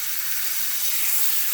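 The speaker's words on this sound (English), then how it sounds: "I'm just trying to sear some of the parts where it was coming apart." Meat sears in a hot pan with a steady, bright hiss and sizzle, close and constant for the whole moment, with no voices.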